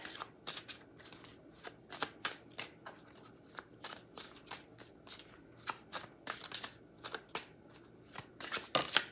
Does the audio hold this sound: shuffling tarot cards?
yes